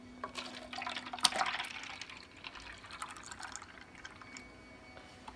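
Liquid is poured into a cup while a protein shake is made at home, a continuous splashing and trickling fill that swells early and then settles into a steady, close pour, with no talking over it.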